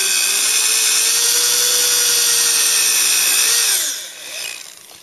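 A power drill bores a hole through a motor mount, a loud, close, steady high whine holding for about four seconds, then winding down and trailing off as the bit stops, with no talking.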